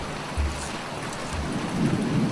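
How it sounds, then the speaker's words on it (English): Acid rain hisses steadily in a Roblox game under a green sky, with two low rumbles of thunder and heavier wash building toward the end. "Is it like an acid rain or something?"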